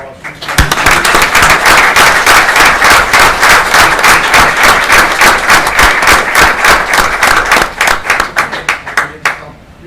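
A council meeting crowd gives a round of applause for veterans: dense, steady hand clapping from many people, loud and close, lasting several seconds before thinning into scattered claps at the end.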